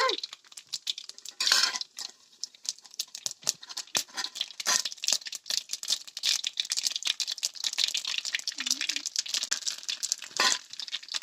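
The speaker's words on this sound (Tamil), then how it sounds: "இது வெந்தயம் பொரிஞ்ச அப்புறம் கடுகு, கொஞ்சம் சீரகம் சேர்த்துக்கணுங்க." Fenugreek, mustard seeds and cumin frying in a pan, a dense crackling sizzle with rapid popping and rattling throughout, close and loud, with a voice briefly heard.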